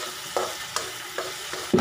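Ginger stirred as it fries for bangus sa tausi with tokwa: a soft constant sizzle broken by four or five sharp spatula scrapes against the pan at roughly even intervals, close and without voices.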